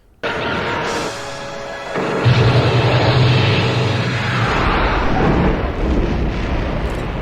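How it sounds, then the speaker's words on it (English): A loud, booming movie explosion from Star Wars: A New Hope bursts in and rolls into a long, heavy roar of rumbling debris that keeps going for several seconds. "that is an epic explosion"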